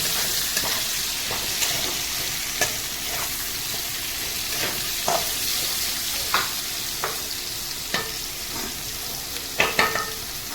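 Carrots frying in a pan for pasta keep up a constant sizzle, broken by repeated sharp clicks and scrapes as a utensil stirs them.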